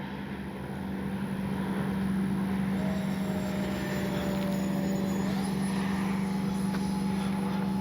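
An X-Fly J-65 Twin 40 radio-controlled jet flying overhead, heard as a steady, fairly distant turbine whine with a faint pitch shift as it passes.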